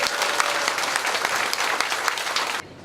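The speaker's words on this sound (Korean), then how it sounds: "큰 박수 한번 주시죠" A crowd at a Korean campaign office opening event breaks into loud, dense applause that holds steady and then cuts off abruptly.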